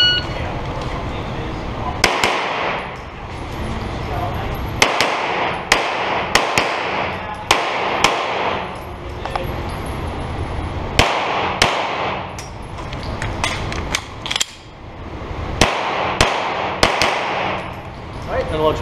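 Pistol shots at an IDPA shooting match at an indoor armory range, loud sharp cracks fired in quick strings and bursts with short pauses between, a range officer's voice heard between strings.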